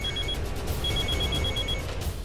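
A telephone rings with a repeated electronic trill in two bursts, the second run longer, going unanswered over a low steady background hum with no voices.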